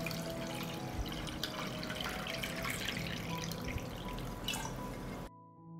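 Water pours steadily into a pot holding jars for pasteurizing, a continuous close splashing and dripping stream for about five seconds that cuts off abruptly at the end.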